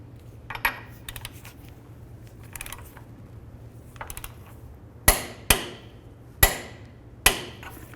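Wrench work on a Ford Crown Victoria front lower control arm: soft tool taps at first, then four loud, sharp metallic clicks from close by, spaced about a second apart, like a torque wrench snapping as bolts reach torque.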